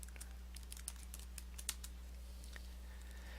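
A search word being typed on a computer keyboard, a faint run of quick, light key taps over a steady low hum, with no voices.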